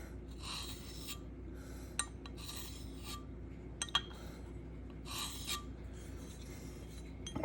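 A knife blade is drawn across a Sharpal 1200 grit field sharpener in several faint, raspy strokes, each a short scraping burst with quiet gaps between them.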